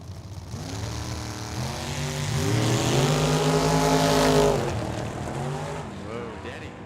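Corvette drag racing down a Tucson Dragway strip, its engine roaring with a rising, then falling harmonic pitch as it passes, loud and sustained, with a commentator talking over it.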